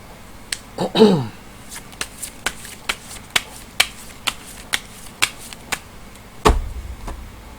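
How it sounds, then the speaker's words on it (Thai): Tarot cards handled during a Thai astrology reading, giving a series of crisp, evenly spaced snaps and flicks close by, with a heavier shuffle near the start and a thud near the end, no talk. "เดี๋ยวจะมาเสี่ยงไพ่ยิปซีดูเพิ่มเติม"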